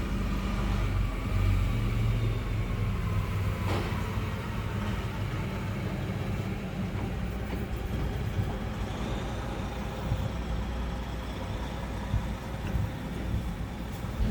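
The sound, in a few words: older Freightliner truck driving by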